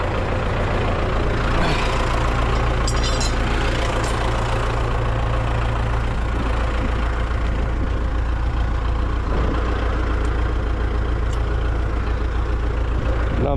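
An MTZ 82 tractor engine idles close by in a field, a heavy, steady diesel rumble with a slight knock that holds throughout, alone without talk.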